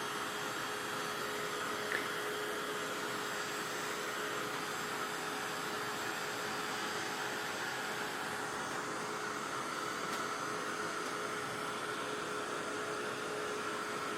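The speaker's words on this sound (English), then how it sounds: "I'm going to get my dryer here, my little heat tool dryer." A small heat tool dryer blows continuously with a steady, whooshing, whining hiss, close by and unchanging throughout, with no talking.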